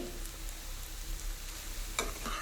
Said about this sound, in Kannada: ಇವಾಗ ಅರ್ಧ ಕಪ್ ಫ್ರೆಶ್ ತೆಂಗಿನ ತುರಿಯನ್ನು ಹಾಕಿ ಒಂದು ಒಳ್ಳೆ ಮಿಕ್ಸ್ ಕೊಡ್ತೀನಿ